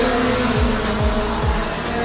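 Racing karts at a club championship round at Clay Pigeon kart circuit scream down the main straight, engines buzzing loudly with quick pitch drops as several pass close by in rapid succession.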